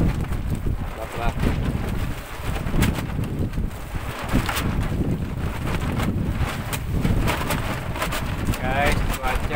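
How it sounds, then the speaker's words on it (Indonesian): Strong wind at sea on a small fishing boat during a tuna and mackerel trip off Tanjung Lesung: gusty, roaring wind buffets the microphone throughout, with sharp bursts and faint voices mixed in. "Guys, cuaca di sini sepertinya sudah mulai angin."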